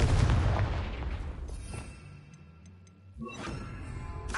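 A Confringo blast spell from Hogwarts Legacy bursts with a loud, booming explosion at the start, fades into a low rumbling tail, then a second sharp burst hits near the end.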